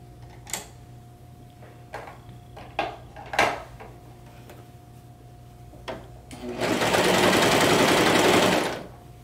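Sewing machine stitching a garment sleeve on the free arm: a few scattered clicks and taps, then a steady loud run of rapid stitching for about two seconds before it stops.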